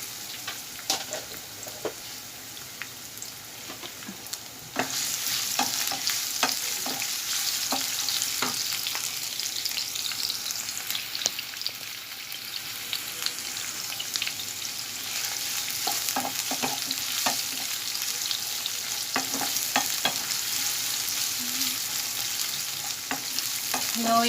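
Chopped onion and garlic fry in plenty of oil in a pan, giving a continuous bright sizzle that jumps louder around five seconds in, with scattered stirring scrapes and taps throughout.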